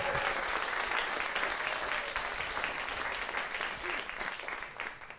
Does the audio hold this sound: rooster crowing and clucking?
no